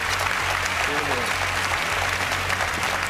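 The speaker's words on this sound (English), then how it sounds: "So a round of applause for Paula." Dense, sustained applause from a crowd fills the space, with a brief spoken phrase barely rising above the clapping.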